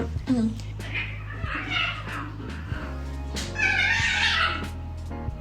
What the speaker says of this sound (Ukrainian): коти мені сьогодні псують зйомку